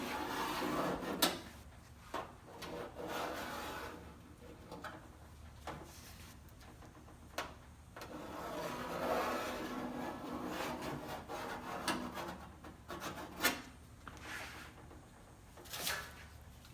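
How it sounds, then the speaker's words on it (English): A scriber scrapes around a snorkel pre-cleaner laid on a 9-inch line, giving short scratchy rubbing strokes in bursts with pauses, close and fairly quiet. "I'm going to lay it right on the 9-inch line, and I'm going to scribe around"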